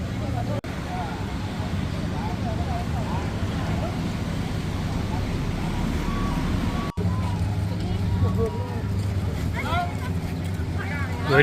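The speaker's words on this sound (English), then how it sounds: "Where do you think all those boats are rushing to and rushing from?" Boats rush past on the water in Thailand, a steady washing engine roar that stays loud and close for the whole stretch, with some talk in the background.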